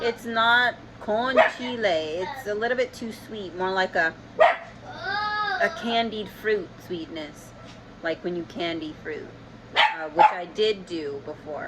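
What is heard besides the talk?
puppy barking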